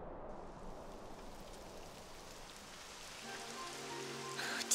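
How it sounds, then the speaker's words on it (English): Rain begins falling in the Dragon Quest XI video game, a steady hiss of rainfall that swells slightly, with a faint tonal game sound near the end and no talk. "It would have to go and start raining, wouldn't it?"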